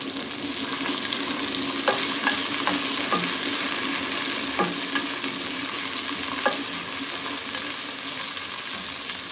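Tomatoes sizzle and fry in a hot pan, a constant crackling hiss broken now and then by scraping stirs, heard close and with no talk.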